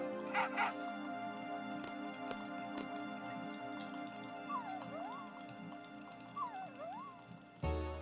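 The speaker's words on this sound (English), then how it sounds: "Sad puppy." Dog whimpering in rising and falling whines, two drawn-out cries over a steady background hum, with a few faint yips and a soft voice nearby.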